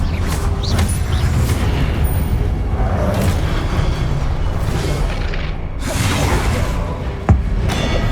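A fire spell cast in Hogwarts Legacy, a dense, sustained roar of booms and whooshing bursts with a sharp thump near the end, loud and close throughout.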